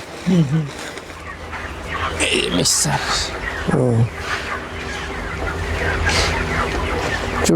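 Broiler chickens on a farm flock of about fifteen hundred cluck and call in a steady busy chorus, with a few louder squawks standing out near the start and around the fourth second, while people talk over the birds.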